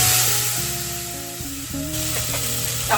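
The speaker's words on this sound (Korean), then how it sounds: "기름 넣어가지고 지금 양파 볶고 있어요" Onions frying in oil in a pan for Japanese curry, a steady close sizzle with faint stirring scrapes and some tonal hum underneath, no talking.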